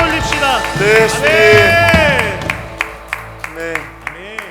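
A church congregation at a Sunday worship service gives applause. Voices and singing come first, then a run of evenly spaced, rhythmic claps.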